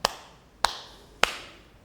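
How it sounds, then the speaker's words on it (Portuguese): Three sharp hand claps by dancing pairs in a circle dance, evenly spaced about half a second apart, crisp and close with quiet between them. "os pares juntos executam 3 batidas de palmas."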